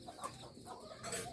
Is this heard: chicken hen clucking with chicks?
yes